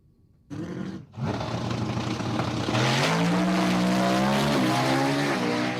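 A stick-shift Mustang launches down the drag strip at an outlaws weekend event, its engine roaring loud and close, rising through gears with a brief lift at a shift before pulling hard and steady to the end.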